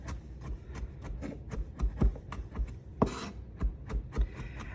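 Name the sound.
knife chopping vegetables in a rocking motion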